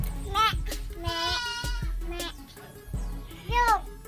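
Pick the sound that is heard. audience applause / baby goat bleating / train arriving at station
baby goat bleating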